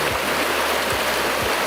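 A stream runs toward a waterfall at a place called Bonfubri, a loud continuous rushing wash of water with a few soft low thumps and no talk.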